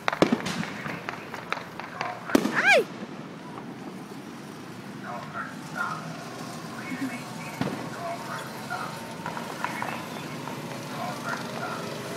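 Sharp firecracker bangs crack out near the start, followed by a busy outdoor wash of noise with a few fainter pops and distant voices.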